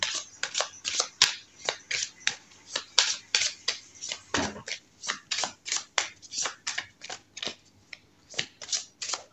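Oracle cards are shuffled close by in a steady, rhythmic series of crisp riffling flicks that repeat roughly every half second, loud and alone without talk.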